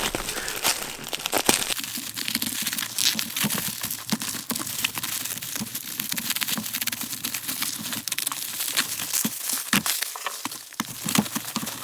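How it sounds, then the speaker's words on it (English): Packaging being torn and unwrapped from a car gear linkage, a continuous close-up stream of loud plastic and paper crinkling, crushing and ripping with irregular sharp crackles throughout and no talking. "so this is the gear linkage I got, so let's just do a bit of unwrapping"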